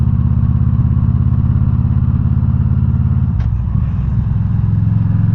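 A motorcycle fitted with an aftermarket exhaust cruising through town at about 40, its engine a loud, steady low throb close up, with a brief shift in tone partway through.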